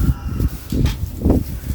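Wind gusting and buffeting, with low rumbling bursts that rise and fall in waves, close and fairly loud.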